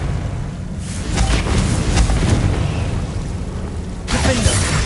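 The Confringo blasting spell in Hogwarts Legacy sets off a heavy booming blast, then a rumbling roar that fades and a second burst near the end, all loud and close.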